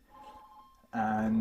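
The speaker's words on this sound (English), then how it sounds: "that's my phone ringing, apologies." A telephone starts ringing partway through, a loud electronic ring cutting in after a quieter stretch with a faint tone and a brief spoken word.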